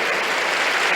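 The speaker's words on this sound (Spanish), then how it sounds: "Dele ese aplauso fuerte a Jesús" A church congregation applauding, a dense, loud, steady wash of many hands clapping at once, filling the whole second without pause.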